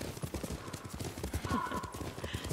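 Horse hooves clip-clopping in a steady walking rhythm while riding in a video game, close and moderately loud, with faint other ambience and a brief tonal cue in the background.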